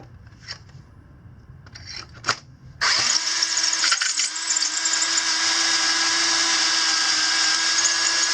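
Power drill boring through a KLX140 rear axle slider with a 15/16 bit, a few brief taps and whirs before the drill starts and then a loud steady high-pitched whine that runs continuously to the end.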